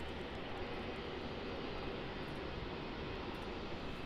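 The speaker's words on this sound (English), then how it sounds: "sitting there in the on the ramp, while the old A320 taxis by." An Airbus A320 jet taxies past the ramp at Melbourne Airport, giving a steady, broad engine roar at moderate distance with no talk.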